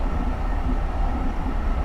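A SEPTA GE Silverliner IV electric commuter train runs in a train simulation game, giving a steady low rumble and rolling rail noise with no voices.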